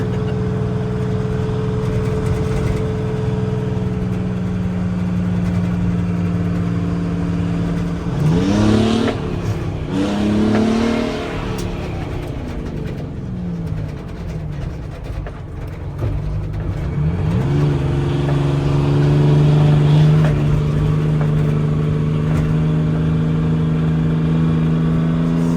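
International cabover truck engine pulling hard through its gears, a loud steady drone interrupted by quick shifts where the pitch dips and climbs again, heard close from inside the cab with no talking.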